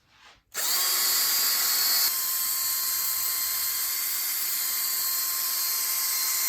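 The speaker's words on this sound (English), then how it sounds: "Drill is charged up. Nothing to it but do some buffing." A cordless drill used for buffing whirs up abruptly and runs at a steady, loud high-pitched whine without pause, close by.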